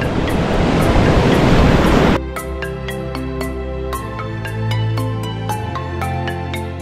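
Ocean waves break on rocks along the Norwegian coast, a broad roaring wash for about two seconds, then quieter surf beneath a musical soundtrack.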